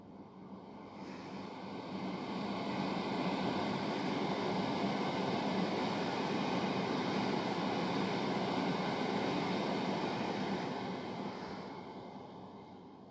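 A passenger train bound for London Paddington passes Starcross, a broad steady rumble and rush that swells over a couple of seconds, holds for several seconds, then slowly fades, heard from a distance with no voices.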